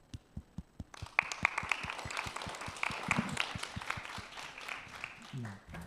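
An audience at a conference session begins clapping, a few single claps at first, then swelling into dense steady applause that continues to the end.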